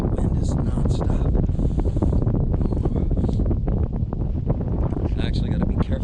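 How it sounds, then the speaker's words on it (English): Steady, loud wind roars across an open frozen lake during ice fishing, buffeting the microphone without pause, with brief muffled activity and faint talk mixed beneath the gusts. "that wind is non-stop"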